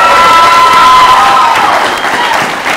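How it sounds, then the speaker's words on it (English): Loud studio audience applause mixed with cheering and whoops on a late-night talk show, a dense wash of clapping and voices that holds strong and then eases slightly. "Can we get another round of applause for our guest"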